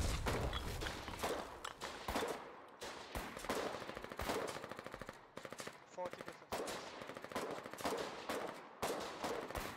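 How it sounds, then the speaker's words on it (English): Dense, rapid machine-gun and rifle fire crackles through a Foxhole video game battle, with continuous overlapping bursts close up and hardly a pause, loud throughout. "Give him some covering fire, even if it's crappy pistol ammo"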